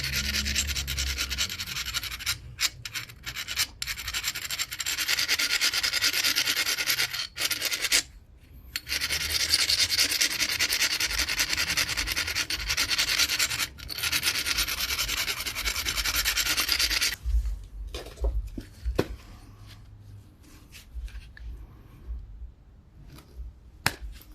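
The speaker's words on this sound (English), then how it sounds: "So this file is really abrasive, but if I use the corner, it gives it a little soft touch." A coarse abrasive file rasps against molded glass in rapid rubbing strokes, loud and close, with brief pauses between bursts and quieter scratching toward the end.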